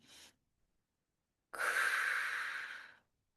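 Deep meditative breathing close to the mic: a brief exhale, a pause of silence, then one long, steady, airy breath that fades out.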